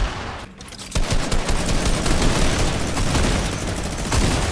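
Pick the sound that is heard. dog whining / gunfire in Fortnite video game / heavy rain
gunfire in Fortnite video game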